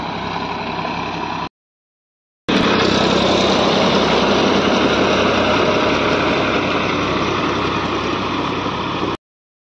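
A tractor engine runs steadily in a field while debris is being cleared, droning loudly and evenly at close range. The sound cuts out briefly twice.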